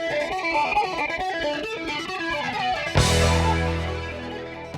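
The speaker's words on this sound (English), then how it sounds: "And then slightly but continuously changing that delay time, which creates this sweeping, swooshing sound." A guitar passed through a flanger effect, its tone sweeping and swooshing continuously as the comb-like coloring glides up and down, then a strummed chord rings out loud and sustained with the swirling effect.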